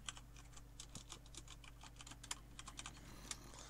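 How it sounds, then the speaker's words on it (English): Fast typing on a loud mechanical computer keyboard, with crisp rapid clacks in an uneven rhythm, close and alone over a faint low hum. "I got a new keyboard and it's mechanical, so it's really, really loud."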